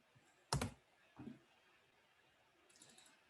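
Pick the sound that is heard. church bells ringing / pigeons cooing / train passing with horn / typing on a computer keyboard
typing on a computer keyboard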